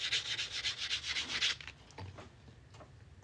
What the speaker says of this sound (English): You just get all them scratches and cracks sanded down. This works a lot better than sandpaper too.